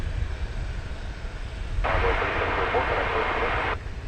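At night an airplane takes off from a DFW Airport runway, a low, distant rumble that carries on throughout, partly masked by a burst of radio-style chatter in the middle.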